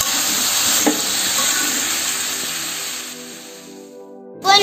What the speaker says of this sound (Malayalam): ഇപ്പോൾ നമ്മുടെ മാംഗോ കഷ്ണങ്ങൾ വേവായി വരുന്നുണ്ട്